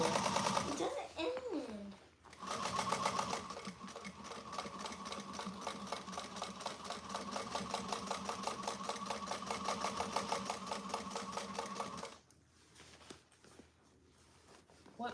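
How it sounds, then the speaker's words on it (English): A sewing machine runs a steady second row of stitching on a handmade bag, producing a fast, even mechanical whir with rapid needle clatter for about ten seconds before stopping; brief voices and handling noises appear around it. "I am going to go just inside of that with a second row of stitching, just so it doesn't pull."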